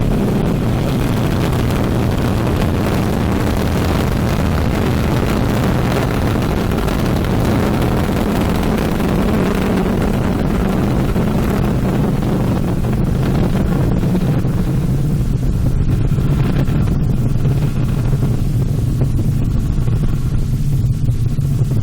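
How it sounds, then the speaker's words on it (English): An Ariane 5 rocket lifts off as the Vulcain main engine and twin solid boosters ignite, a continuous heavy low roar and rumble that stays loud and steady from a distance. "Allumage Vulcain. Allumage 2 EAP, décollage."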